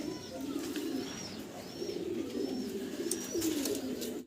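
Danish pigeons coo in a farm loft, soft repeated throaty coos with a few faint chirps over steady low background noise, fairly quiet and close.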